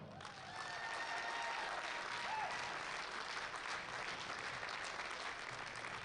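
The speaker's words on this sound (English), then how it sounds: "A big round of applause, ladies and gentlemen, for Becky Holcomb." Crowd at a powerlifting nationals session applauds a referee, sustained even clapping from a large room rising quickly and continuing steadily, with faint voices underneath.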